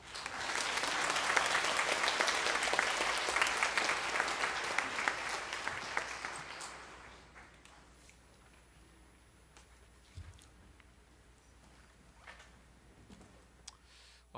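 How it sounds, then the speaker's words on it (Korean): A church congregation applauds to welcome the pastor to the pulpit during a Sunday worship service, a dense, loud roomful of clapping that holds steady for about seven seconds, then fades away into quiet room tone. "나오실 때 박수로 환영하도록 하겠습니다"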